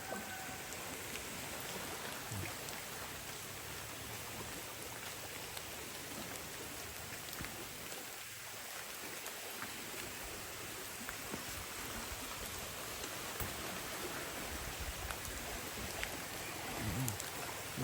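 Heavy rain pours steadily beside a swollen stream, a dense unbroken hiss of falling water and rushing current at even loudness throughout.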